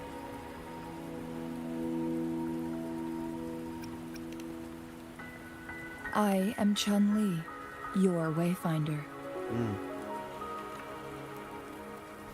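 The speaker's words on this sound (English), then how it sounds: "the rain won't last much longer" Steady rainfall patters in the background of the video game Wuthering Waves, faint and continuous beneath game music and spoken dialogue.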